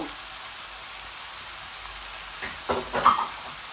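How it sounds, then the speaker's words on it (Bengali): Potatoes and tomatoes go into a hot curry pan with a fish-head base, giving a soft steady sizzle that swells near the end as the pieces land and spatter. "আমি 2টা টমেটোও দিয়ে দিচ্ছি। আলুগুলাও ঢেলে দিচ্ছি।"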